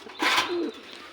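A pigeon gives a single soft coo from a loft of pet pigeons kept for sale, a brief rounded call with a breathy onset, close and fairly quiet against a faint room hum.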